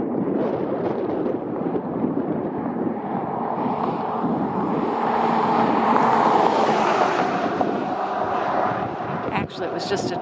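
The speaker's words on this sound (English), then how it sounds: "I'm gonna circle around a little bit because I hear a semi coming." A semi truck roars past on Highway 318 near Sand Wash Basin, its engine and tire noise swelling and then fading, with wind buffeting the microphone throughout.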